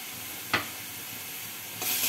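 Onion, chili and ginger paste sautéing in oil for rui fish curry, a steady soft sizzle with a brief sharp stir knock early on and a louder hiss swelling at the end.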